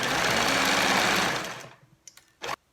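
A sewing machine runs steadily while stitching a folded fabric hem on a spaghetti-strap top, then stops, followed by a few small clicks and a short final burst of motor noise.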